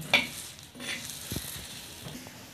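Okra roasts on a hot griddle with a soft sizzle, broken by scraping and stirring scuffs against the pan.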